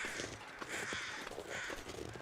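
Crows cawing in the video game The Long Dark, a few harsh repeated caws close and clear over a quiet windy background.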